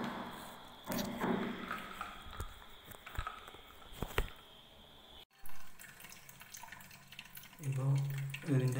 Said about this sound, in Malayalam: ഇപ്പോൾ ഇതിൻ്റെ വെള്ളം നടന്നുകൊണ്ടിരിക്കുകയാണ്.